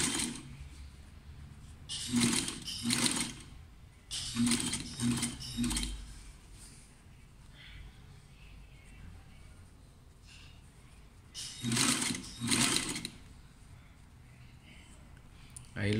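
Domestic sewing machine running an ordinary seam on a halter blouse, short mechanical bursts separated by pauses, moderately close, with a person talking quietly in between.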